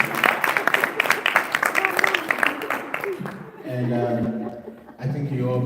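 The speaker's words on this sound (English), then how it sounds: "Let's clap for Louise." A short round of applause from a small group, clapping briskly for a few seconds before fading as a voice begins speaking.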